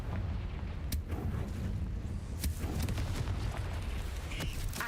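Fiery explosion spell blasts in the Hogwarts Legacy video game inside a cave: several sharp booming cracks burst over a dense, rumbling low background, loud and close with irregular spacing.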